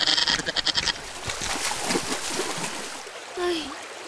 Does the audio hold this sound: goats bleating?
yes